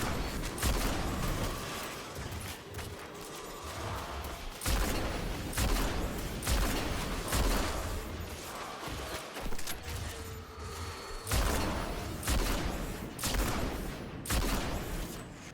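Sniper rifle fire from the Trophy Hunter in Destiny 2: a run of sharp, loud shots spaced a few seconds apart, each with a booming tail, amid continuous game noise.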